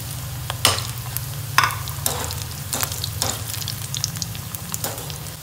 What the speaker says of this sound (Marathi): आता हे छान खरपूस खमंग तळून घ्यायचे आहेत आपण